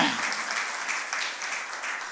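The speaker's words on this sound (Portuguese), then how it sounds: "Salve de palmas pela vida dele" A church congregation gives a round of applause: close, steady clapping from many hands, evenly loud across a couple of seconds, with no talking on top.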